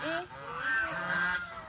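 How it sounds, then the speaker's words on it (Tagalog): A swan on the water gives a short nasal honk, two drawn-out calls in quick succession, fairly close and clear over quiet outdoor background with no talk. "Ang cute ng swan!"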